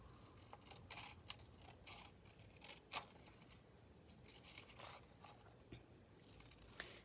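Scissors cutting a stamped paper label, faint close snips and paper rustle in an uneven rhythm over a quiet steady background hiss, with no voices.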